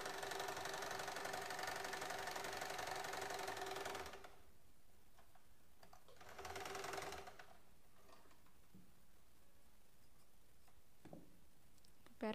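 Electric sewing machine running a double stitch on a child's frock, a steady loud whir for about four seconds, then silence broken by a second short burst of stitching.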